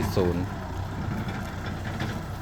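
A Kubota M6040 tractor engine idles steadily with a chicken manure spreader fitted, a low continuous rumble close by, with a brief voice near the start.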